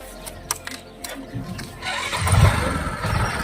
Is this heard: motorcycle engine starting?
yes